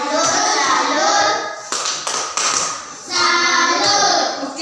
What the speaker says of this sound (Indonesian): Oke, tepuk tangan untuk Mbak Bera dulu.